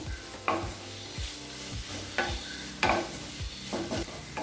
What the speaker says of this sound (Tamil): இப்போ மிளகாய்த்தூள் சேர்த்துட்டு நல்லா வதக்கிக்கலாம்.